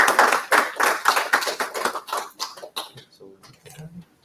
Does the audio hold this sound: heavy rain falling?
no